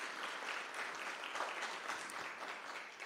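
An audience at a performing arts conference in Kenya applauds, a steady, dense clapping from many hands that holds evenly for a few seconds without voices on top.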